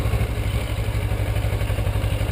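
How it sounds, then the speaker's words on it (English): A motorcycle pulling away as the rider gives a little gas, with a steady low rhythmic engine chug, close and continuous, with no talk. "the bike will start moving, and then you can give it a little gas"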